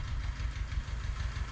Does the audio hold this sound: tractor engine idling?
yes